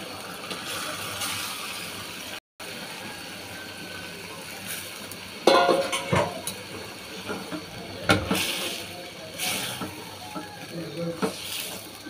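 Potatoes and small mola fish stirred together in a pan, a soft hiss of cooking with a few scraping and clattering stirs in bursts, while a person talks over it.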